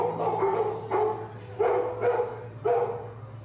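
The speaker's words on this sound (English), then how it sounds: "Kennel doors were open to let the public interact with 20 adoptable pups." Adoptable dogs in a kennel at an animal services open house bark in about five loud, close, evenly spaced barks over roughly three seconds, with a steady background hum.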